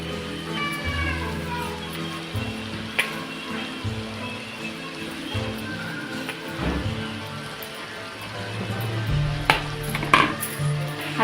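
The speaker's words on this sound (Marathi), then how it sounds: "आता आपण त्याच्यामध्ये ही भाजी टाकून घेऊ" Chopped radish being tipped into a pan, with clattering pot knocks and scattered rattling thuds close by over a low hum, and faint talk in the background.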